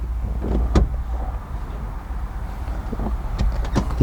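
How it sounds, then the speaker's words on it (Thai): A seat in a Toyota LiteAce Noah slides forward on its rails inside the cabin, giving low rumbling scrapes and a few sharp clicks and clunks as it moves and latches, near and moderately loud. "ตัวเบาะสามารถสไลด์ไปด้านหน้าได้ครับ"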